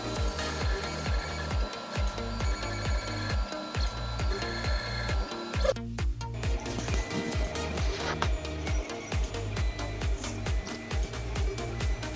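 A 3D printer prints directly onto a T-shirt, its motors humming and chattering in a steady, repeating rhythm of short mechanical pulses, with a brief pause partway through. The sound is moderately close and there is no talk.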